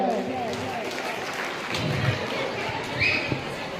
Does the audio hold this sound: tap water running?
no